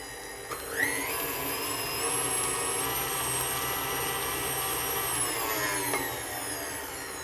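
An electric mixer runs at speed creaming an apple pie mix with egg, a steady high motor whine that ramps up in pitch at the start, holds evenly for several seconds, and drops slightly near the end.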